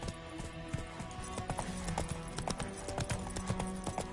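Roach, Geralt's horse in The Witcher 3, gallops at a brisk pace, with rapid rhythmic hoofbeats thudding close up and loud, alone and without talk.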